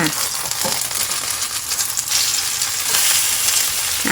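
Battered luffa fritters frying in hot oil as they are turned over, a steady dense sizzle with a few soft scraping stirs, close and continuous throughout.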